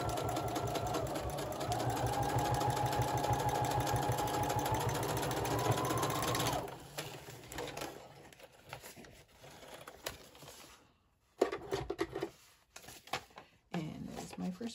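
A sewing machine stitches paper ruffles for an accordion-style junk journal, a steady fast mechanical whir for several seconds, then stops and gives way to paper rustling and handling sounds close by.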